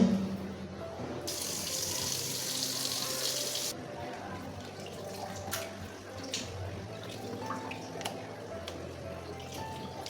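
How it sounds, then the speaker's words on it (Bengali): Raw cut meat rinsed under a running kitchen tap, a loud steady gush of water for the first few seconds followed by quieter splashing and handling sounds at the sink. "মাংস আমার কাটা হয়ে গেছে এখন ধুয়ে নেব"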